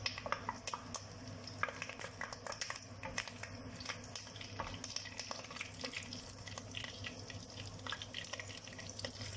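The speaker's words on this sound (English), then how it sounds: "In goes your curry leaves." Curry leaves sizzle in hot cooking oil in a pan, giving a dense, steady crackle with sharp pops throughout, close by and moderately loud, with no voices.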